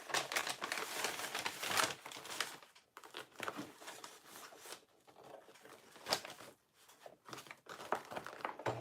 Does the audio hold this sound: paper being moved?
yes